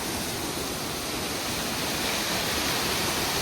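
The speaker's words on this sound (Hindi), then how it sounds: "ये वाला झरना देख रहा हो कहाँ से आ रहा है भाई" A mountain waterfall on the Kinnaur route in the Spiti region in winter gives a steady, loud, broadband rush of falling water, continuous and close, with no voices over it.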